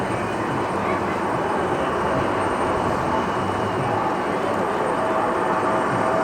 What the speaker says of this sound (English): 777 coming in from Anchorage.